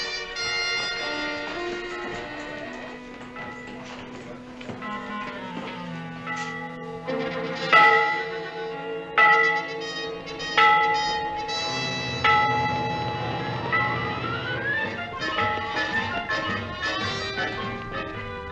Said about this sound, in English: It sounds like a bell.